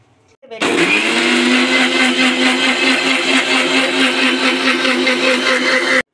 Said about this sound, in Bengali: এটা মিক্সিতে ভালো করে বেটে নেবো